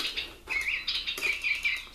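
A DigiBirds interactive tabletop toy bird gives a run of quick, high chirps and tweets, close and fairly clear, with a brief pause before the calls pick up again.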